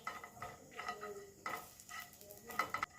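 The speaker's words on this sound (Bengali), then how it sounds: "গোটা গরম মশলাটা 30 থেকে 40 সেকেন্ড ভেজে নেব।" Whole garam masala frying in ghee and mustard oil, a quiet close sizzle with intermittent stirring scrapes and small clinks of a spoon on the pan.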